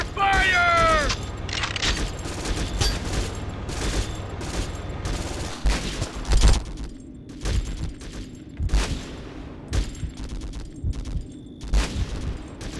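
Bursts of gunfire, sharp cracks and booms, from the Conflict: Global Storm combat game, with an early whistling tone and scattered shots continuing throughout at a moderate distance under some voices.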